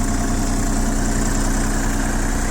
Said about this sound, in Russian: По запуску и по работе двигателя также должно быть отлично слышно.